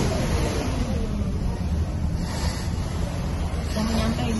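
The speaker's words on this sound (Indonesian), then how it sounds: "Iya kan ombak itu, kita melintasi ombak." Steady rushing sea-wave and water noise heard from aboard a ferry during a crossing, a loud continuous wash with low engine-like rumble throughout, and no clear talk over it.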